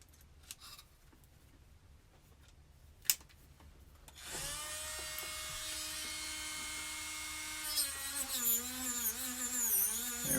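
A rotary polishing tool works on silverware forks and spoons with 1000 grit abrasive: quiet handling clicks at first, then a high whining spin begins at about four seconds and wavers in pitch as it presses on the metal.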